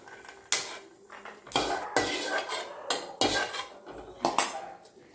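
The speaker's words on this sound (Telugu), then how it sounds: "పల్లీలు కూడా వేగినాయి, ఇవి కూడా గిన్నెలో వేసుకుందాం." Fried peanuts are scooped from a pan into a bowl with a spoon, giving about six sharp metallic scrapes and clinks at irregular intervals, close up with no talking.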